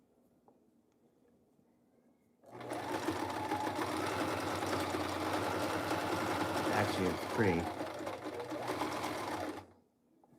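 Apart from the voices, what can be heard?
Singer sewing machine running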